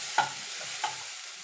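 Egg chowmein stirred in a hot pan, with two distinct scraping strokes of the utensil against the pan over a soft, steady sizzle, close and fairly quiet, no voices.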